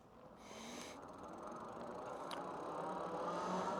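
A Velotric Nomad 1 Plus e-bike pulls away from a dead stop on throttle with a low, rising hum of motor and tyres plus wind rush, growing steadily louder over a few seconds.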